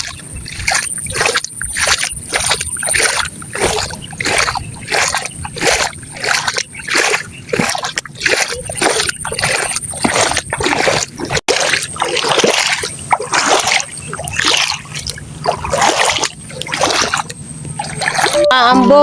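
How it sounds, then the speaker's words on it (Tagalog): Rhythmic splashing and sloshing steps wading through monsoon floodwater near farm fields, repeating steadily, with occasional voices and outdoor background noise. "Luglog tayo sa baha."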